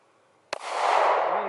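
A single handgun shot cracks sharply and loudly at close range on a shooting range, then a long echoing decay rolls away after it, and no one speaks.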